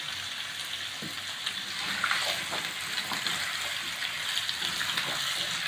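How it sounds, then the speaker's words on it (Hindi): Potatoes fry in a pan with ginger and tomato and no added water, giving a steady broadband sizzle with crackles and small pops. It runs continuously and is moderately loud, with no talking. "पानी के बगैर हमने आलूओं को फ्राई करना है।"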